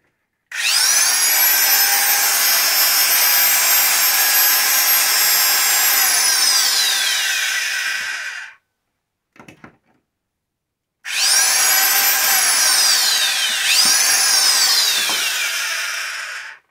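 A Shijing 9320 circular saw used as a tile cutter switches on and whines loudly and steadily for about eight seconds, winds down, then after a short gap starts up again with a similar high whirring run.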